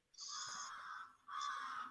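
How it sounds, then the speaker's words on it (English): A crow caws twice, two drawn-out harsh calls with a short gap between them, opening a track on an album. The calls are clear and fairly close, with no talking. "And how it starts out with a fucking crow."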